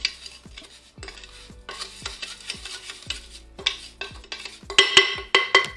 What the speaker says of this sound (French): nous avons pris la spatule pour bien mélanger notre gommage